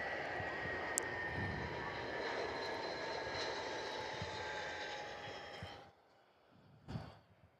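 A Netlink Airbus A320 landing on runway 03 at Perth Airport produces a broad, steady jet roar with whining engine tones that fades out near the end, followed by a brief thump, heard from a distance outdoors.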